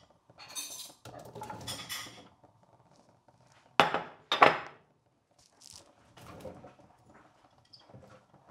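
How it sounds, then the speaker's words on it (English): Potatoes and cauliflower tipped into a pan with onions make a few close clattering, scraping metallic knocks, including two sharper hits midway, separated by quiet gaps. "So now, you're gonna add in your potatoes and your cauliflower."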